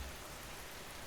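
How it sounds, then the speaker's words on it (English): Steady rain lashes against a window, a dense, even hiss of drops lasting about a second, with no voices. "Rain lashed the window."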